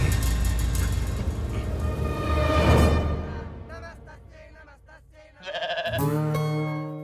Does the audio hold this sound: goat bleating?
yes